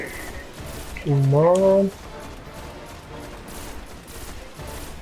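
Several enemies in the video game Destiny fire together in a dense, continuous burst of gunfire beneath a player's voice, with a short exclamation rising over the shooting near the start.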